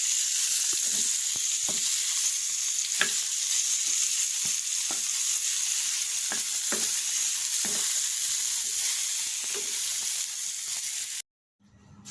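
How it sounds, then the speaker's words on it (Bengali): Salted eggplant slices fry in oil in a pan, giving a steady close sizzle broken by scattered clinks and scrapes as the pieces are turned, before the sound cuts off abruptly near the end. "এই তো উল্টিয়ে পাল্টিয়ে দিচ্ছি, তাহলে হয়ে গেল বেগুন ফ্রাই"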